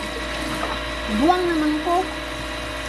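A household Jetmatic-type water pump runs with a steady mechanical drone and hum through the whole stretch, while a person speaks briefly over it.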